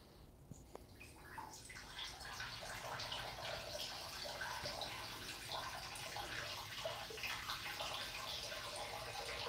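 Toilet water runs in a continuous faint splashing trickle, with a couple of soft clicks near the start before the flow settles into a steady wash.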